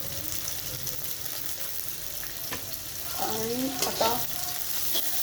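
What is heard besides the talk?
baby corn being sautéed in a pan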